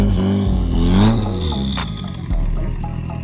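Sports car exhaust revving at a car meet where SRT and CTS-V cars gather, a loud, close engine roar that swells and eases in waves over a rumbling low end, with no talk.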